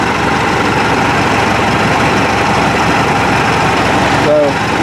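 A Mahindra 8560 tractor engine idles at a steady, dense rumble, loud and close, holding an unbroken drone throughout with a brief tonal blip near the end.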